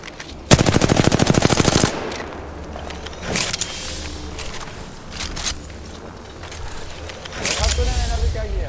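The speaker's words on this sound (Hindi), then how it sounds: "गोलियां चला दे एयर में" Bursts of rapid automatic gunfire ring out in a battle-royale video game, a long loud burst followed by scattered shots and later another short volley, with a streamer's chatter and game sounds between them.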